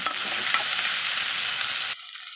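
Food for a Jagannath bhog offering, seasoned with salt and ginger, sizzles loudly in a pan as it is stirred, a continuous close frying hiss that cuts off abruptly near the end.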